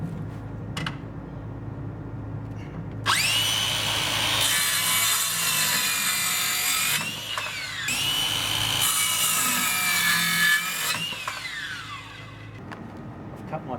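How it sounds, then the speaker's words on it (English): Timber slats for an outdoor wall screen being cut with a saw, a loud sustained rasping cut that runs in long stretches with brief pauses between passes, up close and alone. "Cut my pieces now"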